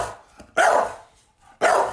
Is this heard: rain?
no